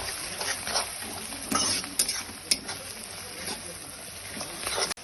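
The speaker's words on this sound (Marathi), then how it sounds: "आता छान कांदा मिरची थोडी लालसर होते पण टाकून" Onion and green chili frying in hot oil with curry leaves, a steady sizzle with scattered stirring and scraping knocks from a spoon against the pan, close and continuous.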